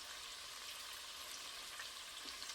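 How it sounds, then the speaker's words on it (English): Potatoes sizzling steadily in a hot pot, a continuous crackling hiss with no voices. "Can you hear that sizzle?"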